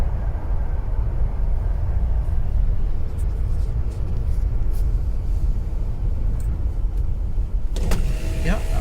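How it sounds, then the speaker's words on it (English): Inside a 1987 Chrysler Fifth Avenue, the power sunroof motor whirs open under a constant loud road rumble from the moving car. "I just opened the sunroof"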